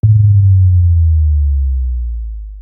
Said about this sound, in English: And then I added a Kashmir sub drop